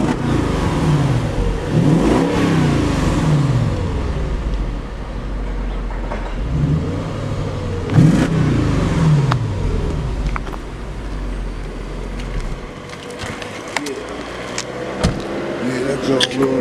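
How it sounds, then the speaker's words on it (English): A Mercedes-Benz S550 engine idles and revs in a few strong surges, the exhaust rumbling close by, with people talking over it. "Now he's going to start the car up so y'all can hear"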